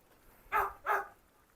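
Two short barks from a dog, close by and evenly spaced, then quiet.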